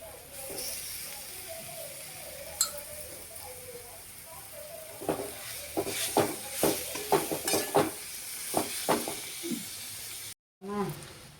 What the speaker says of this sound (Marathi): आता आपल्याला हे किसलेले हे कोंब आहेत ना कणकेचे ते तेलामध्ये व्यवस्थित परतून घ्यायचे